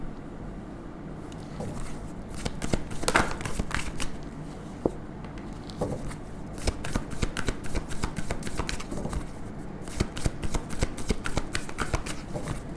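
Tarot cards being shuffled and drawn by hand, close and fairly quiet: a steady run of crisp papery riffles and slaps, with short bursts of sharp flicks coming in clusters, alone without talk.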